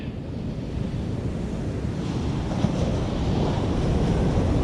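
White-water surf waves breaking at a beach, a continuous loud roar and wash with wind buffeting the microphone, no voices.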